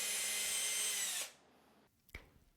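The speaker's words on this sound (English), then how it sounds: "Then I used a self-centering drill bit to drill holes for the screws and installed the lever." A drill turning a self-centering bit to bore screw holes for a door lever, a loud steady high whine for about a second before it stops, followed by a single sharp click in the quiet.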